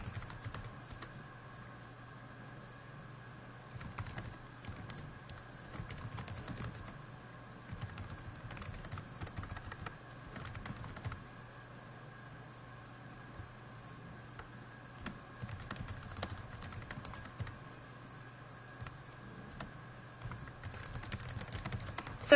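Steady typing on a computer keyboard while writing a short book summary for cataloging, a soft continuous patter of keystrokes, fairly quiet and close, with no talking.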